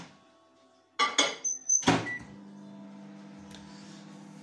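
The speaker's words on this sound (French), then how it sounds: "Je vais faire un peu tiédir le lait pour démarrer ma brioche plus facilement." A microwave warms milk for brioche dough: a few quick button beeps and a door clunk, then a steady low hum of the oven running, close and fairly quiet.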